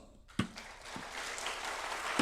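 A modest audience at a gathering of elders at the Lotte Hotel applauds former lawmaker Park Chan-jong, the clapping starting abruptly after a sharp knock and continuing at a moderate, steady level.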